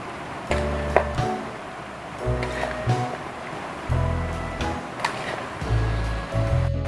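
A vegetable salad with lemon juice and brown sugar is tossed and mixed in a bowl, making repeated soft, wet rustling sweeps with steady rhythm and a few light taps, close and moderately loud.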